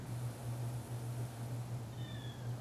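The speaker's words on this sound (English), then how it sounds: "Oh, there's my cat." A house cat gives a faint, short meow over a steady low indoor hum.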